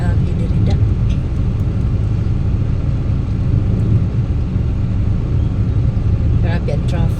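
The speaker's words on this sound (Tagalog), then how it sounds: "Grabe ang traffic, boy." Heavy street traffic in Ormoc: a continuous low rumble of idling and crawling cars and other motor vehicles, close and loud throughout, with faint voices mixed into the noise.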